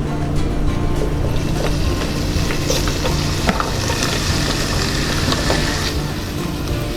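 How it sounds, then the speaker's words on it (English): Vegetables stir-frying in olive oil on a single burner give a steady, close sizzle that runs unbroken the whole time, with occasional clinks from stirring and no voices. "A little bit of olive oil, and then we stir fry everything."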